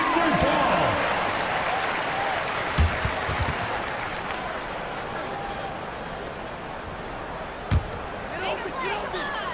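An arena crowd in the basketball video game NBA 2K24 gives a steady roar of cheering and applause that slowly fades, with a commentator talking over it and a couple of sharp thuds.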